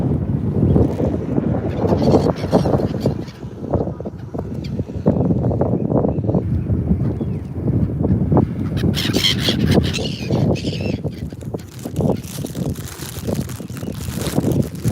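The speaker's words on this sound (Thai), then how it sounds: "ลมมันพัด ลมมันพัดทางโน้น" Strong wind buffeting the microphone outdoors on a road home, a steady loud rumble with gusts throughout and faint bird calls in the background.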